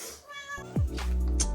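A domestic cat gives a couple of short meows close to the microphone, with faint household background noise and a brief voice nearby.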